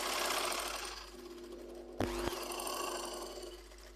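A sewing machine runs steadily as it stitches a second, extra line along a folded fabric hem. The whirring hum is continuous and moderately quiet, with a brief clunk partway through.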